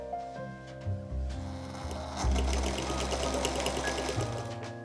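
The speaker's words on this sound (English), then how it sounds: "Now I've obviously not threaded it up yet, so it's not going to be sewing anything, but yeah, motor seems to be working" Unthreaded 1950s Singer 201K knee-lever sewing machine, its motor whirring up and running steadily with a rhythmic needle-bar clatter, close and alone.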